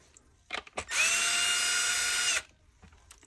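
Power drill with a Torx bit backing screws out of a Dyson Cinetic vacuum power head, one steady whirring run of about a second and a half, close and clear, with small clicks before and after.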